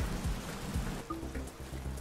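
Continuous rain from the game Rain World: Downpour falls steadily, with a soft hiss and low rumble throughout and a few faint game tones.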